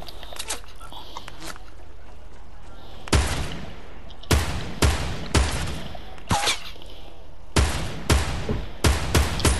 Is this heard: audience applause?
no